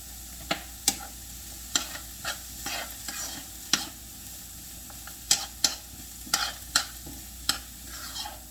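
A pot of seafood gumbo bubbling and sizzling steadily, with sharp pops and clicks scattered through it, close by and moderately loud, with no talking.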